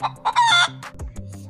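Hen clucking in a children's alphabet song, a few short clucks and a brief crow-like call over bouncy backing music.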